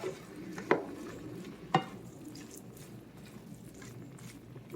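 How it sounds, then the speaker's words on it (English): Ground turkey and peppers brown in a pan for sloppy joes, giving a quiet, steady sizzle broken by two sharp utensil scrapes or knocks early on. "Now all we're trying to do here is just brown up this little wonderful dish here. Just try to brown up the meat."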